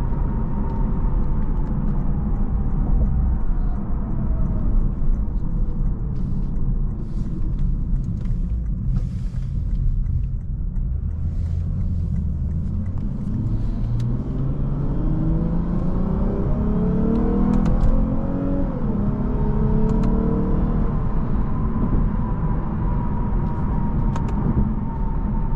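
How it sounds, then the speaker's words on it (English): A 2021 Lexus IS 350 F Sport's V6 engine accelerates hard, its loud, close exhaust note rising and falling through repeated gear pulls over a steady road rumble, with no talking. "I cannot believe that engine sound is coming from a Lexus of all cars."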